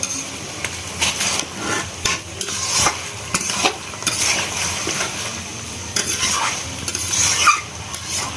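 Bone-in village-raised local chicken being stirred and sautéed in a pan, with a steady close scrape of spoon against metal and a soft sizzle running throughout, recurring stirring strokes.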